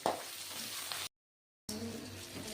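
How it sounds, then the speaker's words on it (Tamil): Onion, ginger and green chilli sauté in a pan for a savoury dinner dish, giving a soft, steady sizzle with faint stirring; the sound cuts out briefly to silence midway, then resumes at the same low level. "இஞ்சியும் நான் கட் பண்ணி வச்சுருக்கேன், அதையும் கையோடு போட்டு நல்லா வதக்கி விடுங்க."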